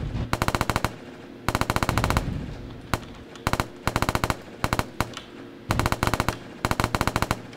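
Rapid bursts of machine-gun-style fire from projectiles launched in an Unreal Engine Chaos physics demo, clusters of quick loud shots repeating in rhythmic volleys with short gaps between them and no talk.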